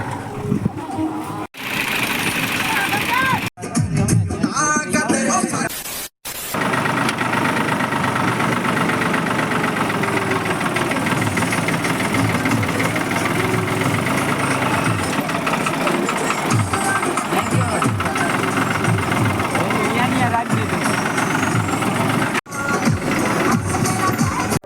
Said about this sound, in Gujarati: આ અમારા પક્કાભાઈ નું ટ્રેક્ટર છે.